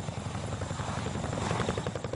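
A Mil Mi-26 heavy helicopter thunders overhead with a rapid, rhythmic rotor thump and a deep engine drone, steady and loud throughout.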